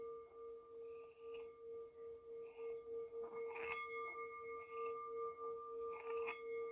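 A singing bowl rings with a sustained, shimmering tone that lingers faintly in a quiet room, its steady overtones swelling gently beneath soft background noise.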